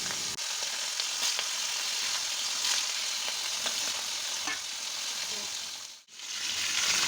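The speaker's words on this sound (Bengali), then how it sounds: "এরপর কড়াতে তেল দিয়ে তেলটা একটু গরম হয়ে এলে ওর মধ্যে ওই মাছগুলোকে পরপর দিয়ে দিতে হবে।" Hilsa fish frying in hot oil in a wok for mustard hilsa, a steady dense sizzle with occasional stirring scrapes, close and continuous with a brief dip near the end.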